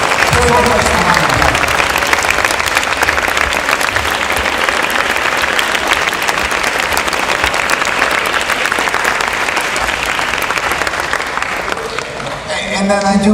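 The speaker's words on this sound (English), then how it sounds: "Please give all the coaches a huge round of applause for so much time." A school awards-night audience gives the coaches a long, loud round of applause, thick steady clapping filling the room for over ten seconds before tapering off near the end.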